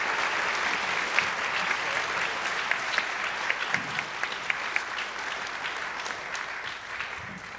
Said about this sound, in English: A round of applause for our bronze winners.